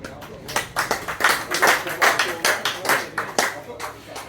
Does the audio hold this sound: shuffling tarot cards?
no